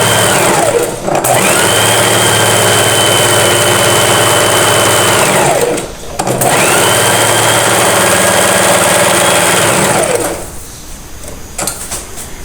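A sewing machine stitches lace panties in two long, steady, loud whirring runs separated by a short pause, then winds down to quiet handling near the end.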